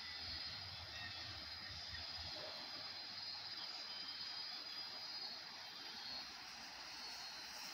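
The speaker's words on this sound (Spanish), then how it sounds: "Pueden escuchar las chicharras, iniciando el verano." Steady high-pitched buzzing drone of cicadas at the start of summer by the Río los Mijaus fills the scene continuously, with a faint low rumble underneath and no talking.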